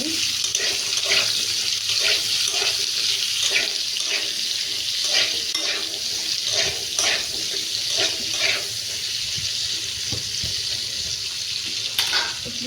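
Diced potatoes fry in hot oil in a home kitchen pan while preparing an Odia bara curry, giving a steady, close hiss with bursts of crackle and sizzle, stirred now and then.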